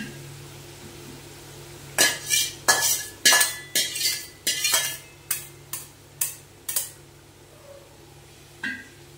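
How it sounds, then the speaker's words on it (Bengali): Cooked water lily stems and boiled mung dal being stirred together in a pot, a spoon scraping the metal in about ten short, rhythmic strokes, close and fairly loud, followed by one last scrape after a pause. "এইবার এটার সঙ্গে ডালটার সঙ্গে ভালো করে নাড়িয়ে দেব"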